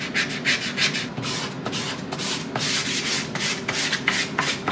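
Wood sanded by hand in a woodworking workshop, rhythmic back-and-forth rubbing strokes at a steady pace, close and continuous with no talk.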